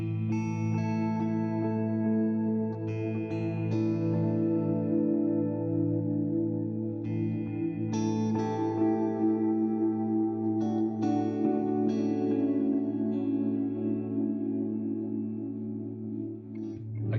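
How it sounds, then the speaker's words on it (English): A guitar played through a Morley pedal with a stereo plate reverb setting rings out in sustained chords and picked notes, each attack blooming into a long, smooth reverberant tail that blends into a continuous wash. "we're going to put a plate reverb in stereo"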